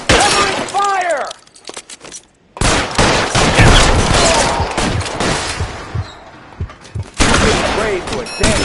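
Bursts of gunfire ring out in a crime shootout in L.A. Noire, loud and repeated across most of the stretch with a short lull, mixed with shattering impacts and voices talking over the fighting.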